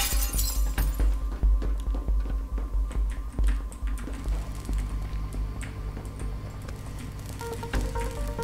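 Glass shattering in the game Teardown, with loud crashes of breaking glass and tinkling debris in the first few seconds, then scattered falling shards and clatter at a lower level.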